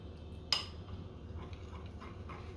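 A spoon stirs cornstarch into liquid in a bowl to dissolve it, giving one sharp clink of metal on the dish and then quiet, faint scraping over a low background hum.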